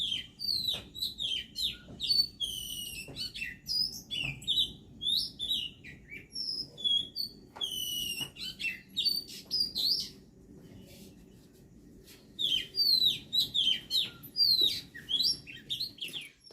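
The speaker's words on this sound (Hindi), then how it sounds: "सुबह सुबह पक्षियों की आवाज़ कितनी प्यारी लग रही है" Songbirds trill and chirp in repeated bursts on an early rural morning, bright and fairly close, with short pauses between phrases over a faint low background hum; no voices.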